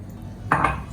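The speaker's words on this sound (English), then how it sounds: "Now I am going to add this water, this liquid." Saved dal-boiling water is poured into a cooking pot for dal makhani, a brief splash and clatter of liquid hitting the pot at midpoint over quiet kitchen background.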